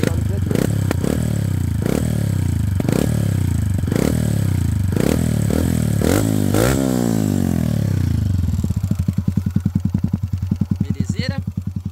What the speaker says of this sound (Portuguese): escapamento da GRS, ele abafa bastante